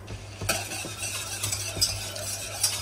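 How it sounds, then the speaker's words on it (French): Butter melting in a pan for a white béchamel sauce, giving a soft, faint sizzle with occasional light clinks and stirring scrapes of a utensil against the pan. "mon beurre a bien fondu, je ne cherche pas du tout à le faire colorer"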